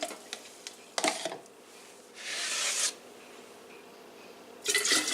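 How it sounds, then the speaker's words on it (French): Water being poured into vinegar for a homemade fabric softener, with a brief steady pour in the middle and another short splash at the end, amid faint handling knocks. "Ensuite, on ajoute 8 tasses d'eau en tout."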